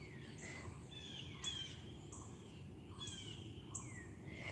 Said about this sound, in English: You hear the turkeys chirping this morning, KB?